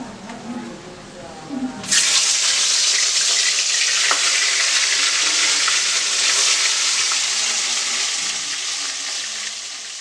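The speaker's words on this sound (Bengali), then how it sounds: "আমি একে একে মাছগুলোকে সব ভেজে নিচ্ছি" Fish fries in hot oil with a loud, dense, continuous sizzle that flares up suddenly and then holds steady near the microphone, above a faint background murmur before the surge.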